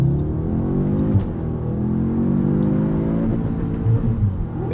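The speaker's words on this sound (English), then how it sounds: "Kind of a cool sounding rev limiter too." Turbocharged engine of a 2025 Audi S3 with a DSG gearbox revs hard up to its rev limiter, a loud close rising drone with clear harmonics that sweeps upward, bounces and holds steady, with no talking.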